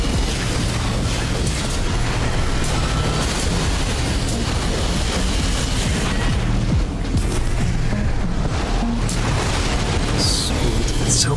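Mech combat explosions in Armored Core VI, heavy booms and mechanical clatter over continuous loud game noise, with several bursts rolling out one after another throughout.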